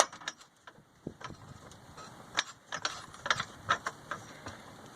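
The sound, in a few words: car jack being lowered under Pontiac Grand Prix GXP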